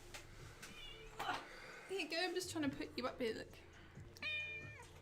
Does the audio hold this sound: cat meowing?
yes